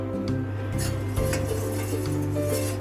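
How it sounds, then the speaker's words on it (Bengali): Milk being stirred for custard in a pot over a gas flame: soft, irregular spoon scrapes and light metallic clinks ride over a steady low hum, fairly quiet and with no talking. "দুধটা যতক্ষণ না ফোটে ততক্ষণ আমি এরকম করে নাড়তে থাকবো"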